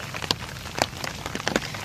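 Light rain pattering steadily on a surface nearby, with scattered louder drops and no talking.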